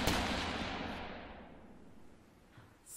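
A single gunshot rings out with a sharp, loud onset, then a long reverberant tail fades over several seconds.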